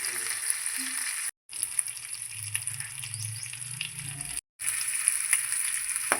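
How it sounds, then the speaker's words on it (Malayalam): Masala-coated fish frying in a pan gives a steady, close sizzle with crackling oil, broken by two brief silent gaps where the recording cuts out. "ഞാനിപ്പോൾ മീൻ പൊരിക്കാൻ ഇട്ട് കൊടുത്തിട്ടുണ്ട്."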